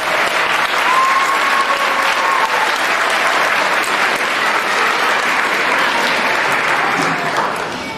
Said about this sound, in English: so let's give a big round of applause to Katie Phillips.